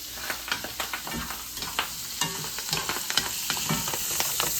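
Bacon and mushrooms frying in a pan, a close, steady sizzle with frequent crackles and pops.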